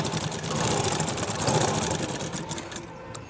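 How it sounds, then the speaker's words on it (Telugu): A sewing machine top-stitches a blouse seam, running in a continuous fast close-up whir of needle strokes that eases off at the end. "ఇలా దీన్ని ఇలా ఓపెన్ చేసి టాప్ స్టిచ్ చేసుకోండి"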